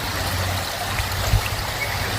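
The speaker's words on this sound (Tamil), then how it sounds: "அருவியில் தண்ணி தான் இங்கே ஓடி வருது." Water from a waterfall runs down a stream in Percy Scenic Park, New Zealand, as a steady, close, broadband rush with no talk over it.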